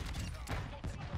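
Kastov 762 rifle fire in Call of Duty MW2, a couple of sharp broadband bursts in quick succession over a dense, steady game mix, with a voice talking underneath.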